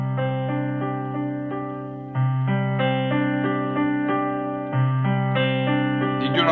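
Keyboard playing a steady repeating pattern in D at full tempo with the sustain pedal held down, notes ringing together into a continuous, sustained wash, with the pattern restarting on two clear accents; close and moderately loud with no talking.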